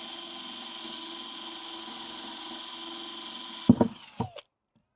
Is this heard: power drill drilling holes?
yes